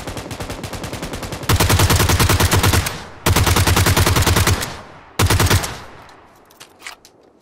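Automatic rifle fire from a PUBG match on the snowy Vikendi map, three loud sustained bursts of rapid shots, each cut off abruptly, then faint scattered pops and distant shots trailing off.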